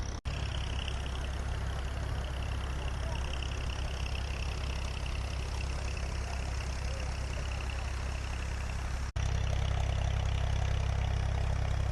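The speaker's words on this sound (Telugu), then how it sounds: "అక్కడి నుంచి లిఫ్ట్ చేస్తారు వాటర్ని ఆయిల్ ఇంజిన్ మోటార్తో" A loud, steady diesel oil-engine water pump drones continuously up close, lifting water from a building foundation, with a brief cut near the end before the rumble resumes slightly stronger.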